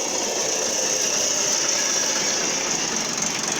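A tractor engine idles steadily beside a pond, driving a homemade pump that draws water for garden irrigation, a continuous close mechanical drone with a faint rattle and no talk.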